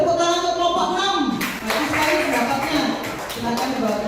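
A classroom of students claps for a group after its presentation, a scattered burst of applause that swells and fades under a teacher's speech.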